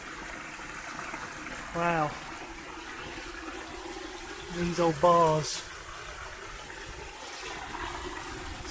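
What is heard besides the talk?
water rushing through an old Victorian culvert tunnel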